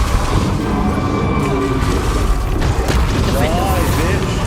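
Bombarda spell blast in the Hogwarts Legacy video game, a dense booming burst with rumbling low end over continuous game noise, mixed with other spell effects.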